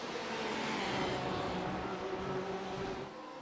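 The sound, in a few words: Porsche GT3 race cars passing, from the video game iRacing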